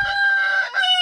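Leghorn rooster in a coop of Leghorn and dwarf Leghorn chickens, a single loud, close crow that holds a strained, sustained tone for about a second.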